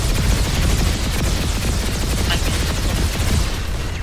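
Dense, continuous gunfire rattles through an online battle in the shooter game Planetside 2, loud and close, with overlapping bursts forming an unbroken barrage and no clear pauses.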